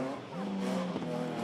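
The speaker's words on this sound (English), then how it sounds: "To the hairpin he goes, brakes hard," A rear-wheel drive retro rallycross car braking hard into a hairpin, its engine note dropping through steady, loud tire and motor noise with a sustained droning tone, close and continuous.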